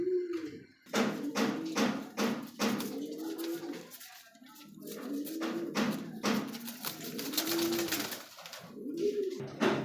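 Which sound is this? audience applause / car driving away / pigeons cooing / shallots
pigeons cooing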